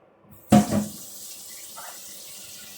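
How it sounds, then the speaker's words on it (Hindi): Water is poured from a tap onto soaked chickpeas for a Kerala-style chana masala, a sudden close gush that settles into a steady, softer trickle with a few faint clinks and no talking. "थोड़ा पानी भी डाल दिया साथ के साथ"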